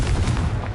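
A Confringo fire spell bursts in the Hogwarts Legacy video game as a short, loud blast with heavy low rumble, filling the brief moment on its own.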